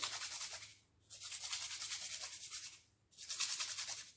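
Pen kit tubes being scuffed by hand, producing rhythmic, raspy rubbing strokes in two separate bursts with a short pause between, close and fairly loud.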